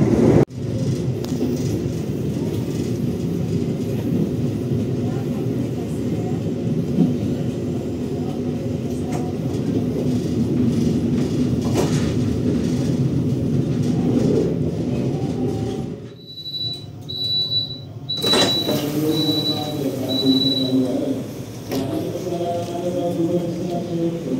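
The Tegal Bahari passenger train rolls along the rails with a steady loud rumble and wheel squeal. The noise briefly drops away, then high-pitched squeals and clatter return.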